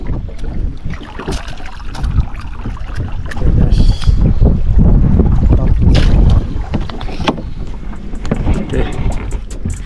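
Strong wind buffets the microphone on a river in Kuala Baram while fishing for giant freshwater prawns from a boat, a loud steady roar with gusts swelling midway, with faint boat and water noise underneath.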